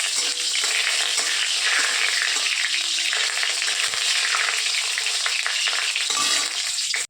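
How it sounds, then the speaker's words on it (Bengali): Cumin seeds and dried red chillies tempering in hot oil in a wok, a loud, steady crackling sizzle that fills the whole stretch with no voices, cutting off abruptly at the end. "জিরে শুকনো লঙ্কা ফোড়ন দিলাম"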